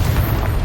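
An explosive spell goes off in the video game Hogwarts Legacy, a loud, dense booming blast with deep rumble filling the whole short moment.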